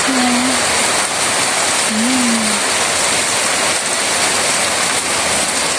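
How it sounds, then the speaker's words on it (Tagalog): Heavy rain pours down in Wonderland, a quiet village in Hong Kong, as a loud, steady, enveloping roar. Two short tonal hums rise briefly above the downpour. "I'm enjoying to take a video with the heavy rain."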